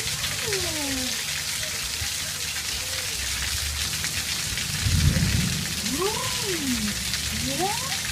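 Rain falls steadily outside as a dense, hissing wash with a low rumble swelling midway, while faint rising and falling voice-like tones drift over it.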